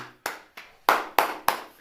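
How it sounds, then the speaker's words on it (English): Scattered hand claps, about six sharp separate bursts with short gaps between them, fairly close. It is a thin, brief smattering rather than full crowd applause. "Give my man Doc a round of applause, ladies and gentlemen."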